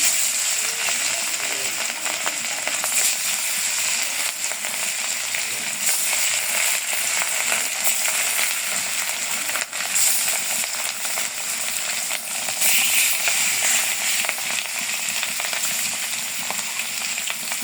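Fish sizzling steadily in hot oil during home biryani cooking, a dense, continuous frying crackle that stays loud and even throughout with no pauses.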